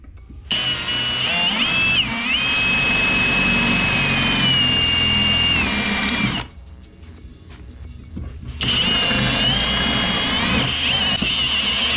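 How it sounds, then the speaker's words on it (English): A power drill boring a 3/8-inch hole during a Toyota JZX100 spindle modification, its steady high motor whine shifting slightly in pitch. It runs for about six seconds, stops for two, then resumes close and loud. "Alright, let's drill our hole out."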